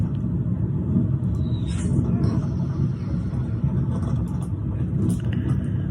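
Car driving on a road, heard from inside the cabin as a steady low rumble of engine and tyres, with faint movement noises and a voice now and then.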